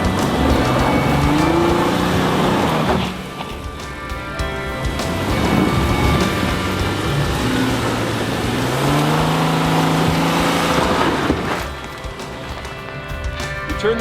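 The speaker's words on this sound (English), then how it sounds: "All I did was accelerate really hard, and it kept going, and then the wheels were figuring it out" A 2016 Honda Pilot or Toyota Highlander SUV revving hard on the off-road Gold Mine Hill with its wheels spinning, the engine surging loudly with a steady roar of tires and dirt, dipping briefly before building again.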